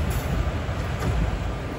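The Tirupati–Villupuram Express running out of Tirupati station on a single main line gives a steady loud rumble of carriages, heard from inside the train behind the engine.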